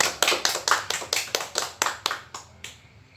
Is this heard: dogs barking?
no